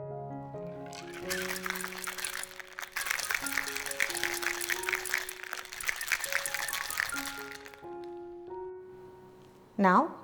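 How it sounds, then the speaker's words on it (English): A Brandy Fix cocktail rattles hard in a shaker for about six seconds, a steady rapid shaking over background music that continues after it stops. "Now it's time to shake."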